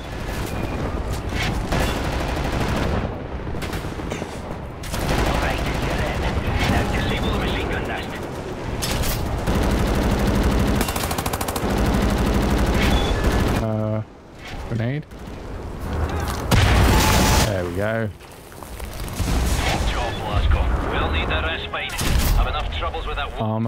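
Dense gunfire in Wolfenstein: The New Order: rapid automatic bursts and heavy booms nearly nonstop, loud and close, with voices talking over the shooting.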